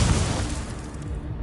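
Incendio fire spell in a video game, a brief loud whooshing blast with a rumbling low end that fades out quickly.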